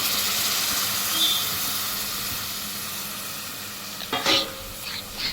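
Peeled field beans are stirred and sautéed in a pan, a steady close sizzle and hiss with a few scraping stirs near the end.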